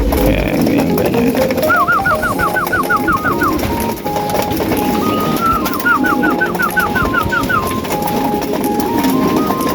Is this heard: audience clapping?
no